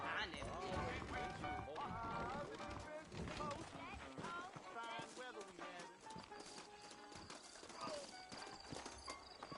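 Horses trotting in the Red Dead Redemption video game, a steady clip-clop of hooves with an occasional whinny, heard close under ongoing dialogue and game music.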